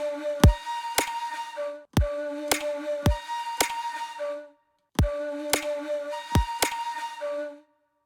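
Trap drum pattern at 110 BPM from a Savage drums sample library: sharp snappy hits and deep booming kicks in a sparse, syncopated rhythm, two bars repeated after a short gap, dry and clear.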